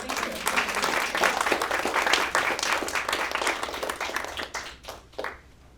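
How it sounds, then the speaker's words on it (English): Audience at a conversation on plant science and philosophy gives a quick round of applause, a crisp close patter of many hands that tapers off into a few last scattered claps. "we'll do a quick round of applause"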